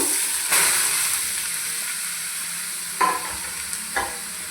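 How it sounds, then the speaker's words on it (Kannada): Grated carrot frying in ghee for carrot halwa, giving a steady loud sizzle broken by a few scraping stirs of the pan. "ತುಪ್ಪದಲ್ಲೇ ಇದನ್ನು ಹುರ್ಕೋಬೇಕು ಕ್ಯಾರೆಟ್ ತುರಿನ"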